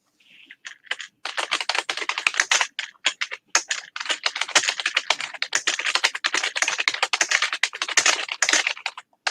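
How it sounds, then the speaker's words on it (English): Rapid, forceful typing on a computer keyboard, a dense and continuous clatter of keystrokes lasting several seconds, close to the microphone and loud, with brief pauses and no speech. "Angry typing."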